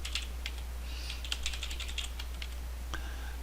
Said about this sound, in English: we'll type some stuff in here.